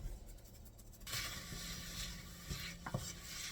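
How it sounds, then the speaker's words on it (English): Chopped medium onion with a pinch of salt going into a pan to saute, giving a steady soft sizzle after a quiet start, with a few light clinks of a utensil against the pan. "And I'm gonna start sauteing my onion."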